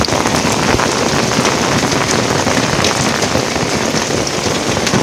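Steady rain pours onto an open, roofless hydroponic growing setup, a dense, continuous hiss of drops striking surfaces close by, loud and unbroken throughout with no voices.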